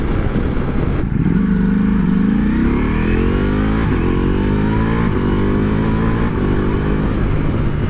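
A 2023 Ducati Multistrada V4 Pikes Peak motorcycle V4 engine revs up close and loud, the pitch climbing steadily in a rising pull, then easing into repeated swells while it idles and blips.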